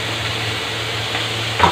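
Potatoes, onion and capsicum sizzle steadily in a pan, a brief even frying hiss with a small knock near the end.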